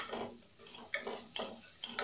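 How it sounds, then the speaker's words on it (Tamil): Moong dal stirred and sautéed in a pan for a Tamil arai keerai masiyal, giving soft scraping stirs with a light sizzle, several spoon strokes close up and fairly quiet, with no talking. "இதை 2 3 மினிட்ஸ் வந்து நல்லா வதக்கிக்கலாம்"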